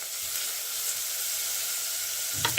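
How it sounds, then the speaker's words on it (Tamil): Onions sautéing in hot oil with popped mustard seeds, fennel and fenugreek for an aubergine and chickpea curry, giving a steady, even sizzle with a brief clatter of stirring right at the end. "இப்போ வெங்காயம் சேர்த்து வதக்கி கொள்ளுவோம்"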